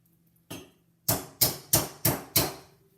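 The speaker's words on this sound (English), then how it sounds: "We're going to have a hammer here." A real hammer strikes in a kitchen lab demonstration: one blow, a pause, then five sharp, evenly spaced hits, loud and close with no talking.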